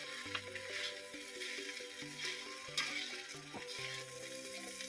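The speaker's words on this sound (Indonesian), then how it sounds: "Wis digongsreng sampai mateng." Leftover-rice nasi goreng, seasoned with soy sauce, salt and chili, sizzles and hisses in a hot pan as it is stir-fried. The spatula scrapes and tosses it rhythmically in close, steady bursts.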